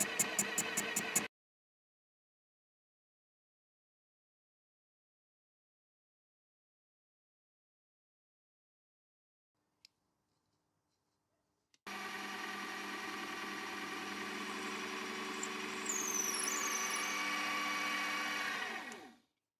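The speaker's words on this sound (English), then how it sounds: "Then I nibbled away at the brass with the boring head." A boring head on a mini mill cutting brass: a short burst of noise at the start, a long silence, then a steady, bright machining whine for about seven seconds before it stops abruptly.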